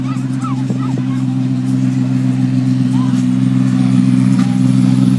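A loud, heavy tractor-pulling engine roars steadily under strain at a tractor pull, with a whistling turbo whine rising above it, mixed with crowd noise and an announcer's voice.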